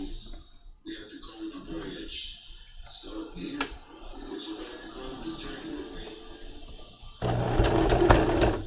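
A sewing machine stitches in short, close bursts under a person talking, then runs a longer, louder continuous whirring stretch near the end.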